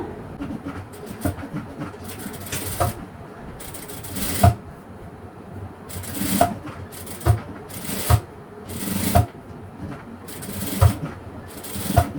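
A sewing machine stitches piping onto the round neck of a blouse in short bursts of rapid mechanical clatter, about eight or nine separate runs with quiet handling sounds of cloth between them, close and clear with no talk.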